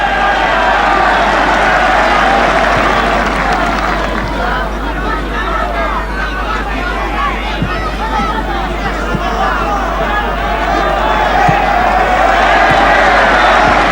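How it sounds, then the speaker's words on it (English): Argentinian fans applauding at a 1995 Copa America football match against Chile in a stadium, a broad, constant crowd roar and clatter of clapping with a commentator talking over it. "Hugo Perez getting applause from the Argentinian fans here."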